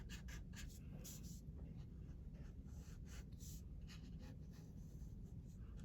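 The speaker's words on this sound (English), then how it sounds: "Just draw in these parts." A pencil scratches across paper in quick, light strokes while someone sketches a castle, close and quiet against a steady low background hum, with no talking.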